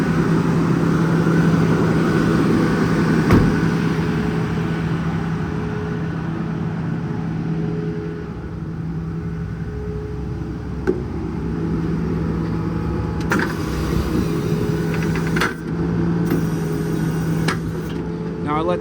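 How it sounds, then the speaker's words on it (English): International MV607 truck with a Cummins diesel, idling in a steady low drone with a few clicks and knocks over it, while someone talks beside it. "Idle the truck up off the cruise control."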